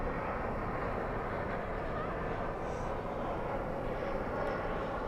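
A UPS cargo plane, flight 761 bound for Ontario, California, rumbles at a night airport as a broad, steady jet roar, distant and constant throughout.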